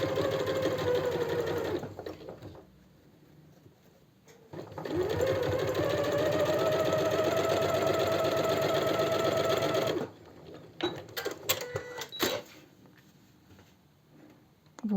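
A domestic sewing machine stitches the seams of a fabric sash belt in two long continuous runs of close, whirring motor noise, separated by quiet pauses and followed by short clicks and handling sounds.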